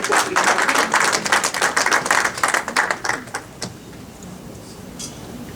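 Audience applause at a book inauguration event in New Jersey, a burst of many hands clapping that fades after about three seconds into a quiet room with a few stray claps.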